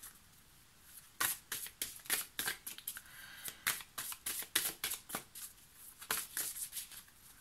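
Unicorn-themed cards are shuffled and flicked through by hand in a quiet room, a rapid series of close, crisp slaps and riffles in uneven bursts, with no talk.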